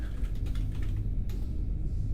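Fast, light typing on a computer keyboard, a quick cluster of soft clicks that trails off into a few sparse taps, all sitting over a steady low rumble.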